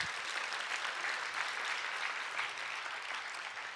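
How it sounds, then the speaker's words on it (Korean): A room full of people claps steadily for a few seconds, a dense even wash of applause with no voices over it. "박수 한번 할까요?"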